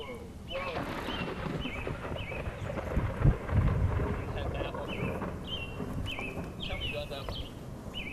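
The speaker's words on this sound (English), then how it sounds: "Nice little summer squall came up on us there this yesterday afternoon, Dean." Summer squall on a mountaintop, with steady wind buffeting and a low rumble of thunder rolling through the middle, plus scattered bird chirps above.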